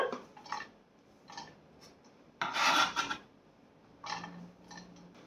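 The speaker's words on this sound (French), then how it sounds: "On va émincer l'ail." A knife minces garlic on a board in short bursts of gritty chopping and scraping, with quiet pauses between strokes and a louder flurry in the middle.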